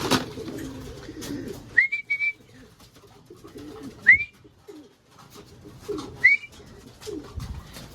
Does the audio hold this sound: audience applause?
no